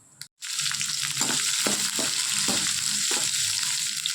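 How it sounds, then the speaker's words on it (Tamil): Urad dal, with mustard seeds, frying in hot oil for millet upma, a loud, steady crackling sizzle with soft stirring scrapes repeating throughout. "கொஞ்சம் உளுந்தப்பருப்பு, இது நல்லா பொரிஞ்சு வரணும்."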